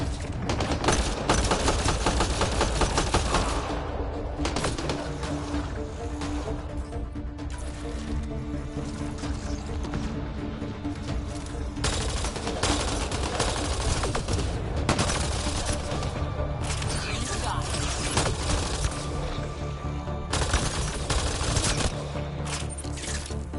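Firefight in Mass Effect Andromeda, with rapid, near-continuous bursts of automatic gunfire and sharp shots crackling for over twenty seconds, loud and dense with brief lulls, faint voices occasionally underneath.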